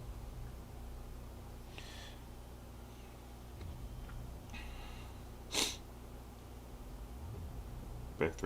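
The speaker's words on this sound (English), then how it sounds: "Back through my sniffles and my" Allergy sniffles and a sharp sneeze-like snort come in a few brief, faint bursts from a nearby person at a quiet indoor painting desk, spaced irregularly over a low background hum.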